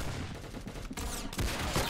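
Rapid gunfire from the Roblox game Arsenal, a dense, loud stream of shots with a sharper burst near the end and no one talking.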